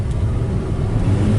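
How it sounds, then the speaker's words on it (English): A 2015 Toyota Fielder hybrid idles steadily after a transmission replacement, giving a low, even engine rumble that stays close and constant the whole time, with no voices. "this is the vehicle running after the transmission was replaced"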